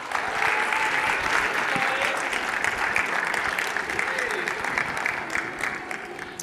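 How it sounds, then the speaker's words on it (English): A conference audience breaks into steady, sustained applause as a presenter is welcomed to the stage, dense clapping from a large crowd holding loud throughout before tapering slightly near the end. "Let's give her a warm round of applause"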